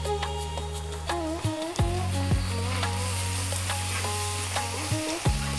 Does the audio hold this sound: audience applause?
no